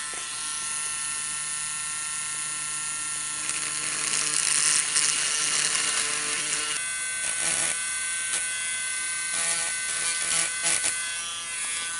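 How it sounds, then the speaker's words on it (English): A Dremel rotary tool drilling a hole in an eggshell, a close high-pitched electric whine that rises in intensity midway and keeps buzzing steadily with slight changes in load. "to make the hole in the egg, I will use a Dremel."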